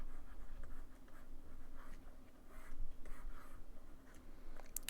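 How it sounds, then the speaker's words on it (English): A pencil scratches across paper while sketching lips, with soft, intermittent strokes in short bursts, faint and close against a quiet room hum. "Start drawing an eye."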